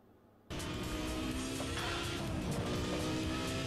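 A Lamborghini Sesto Elemento from the Exotic series roars in Need for Speed Hot Pursuit Remastered, a loud sustained engine and road rush that bursts in after a quiet moment and holds steady with no talking.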